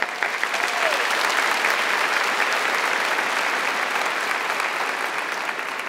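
A congregation at a Catholic Mass during a youth camp claps loudly and continuously through the homily, a dense, even wash of applause from many hands with no break.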